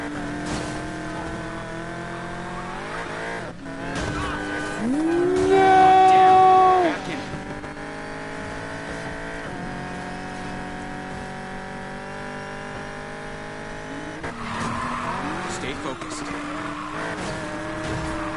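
Arcade-style video game street race with cars revving, engines whining and tires squealing through skids, loud and continuous, with game characters talking over the engine noise.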